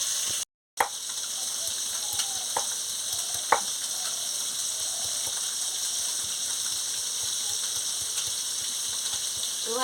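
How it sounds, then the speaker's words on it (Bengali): Rohu fish fries in a pan with a dense, steady sizzle and hiss that runs throughout, close and loud, broken by a few soft knocks and one brief dropout near the start. "এবার মাছটা ভাজা হতে হতে আমি আদা রসুনটা কেটে দিচ্ছি"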